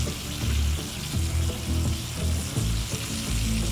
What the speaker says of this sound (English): we are going to go flip the bacon over to the other side